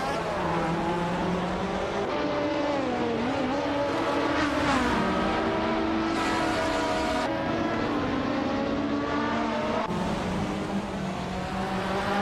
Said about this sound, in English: Hope you're ready for some exciting AI car races.